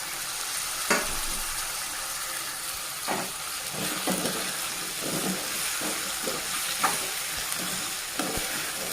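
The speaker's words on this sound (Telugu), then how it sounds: "ఇవి ఇలాగే ఒక ఫైవ్ మినిట్స్ వరకు బాగా ఫ్రై చేసుకోవాలండి కలుపుతూ ఉండాలండి" Peeled taro root (chama gadda) fries in a pan with browned onion for Andhra-style pulusu, a steady sizzle broken every second or so by the scrape and clack of a spoon stirring.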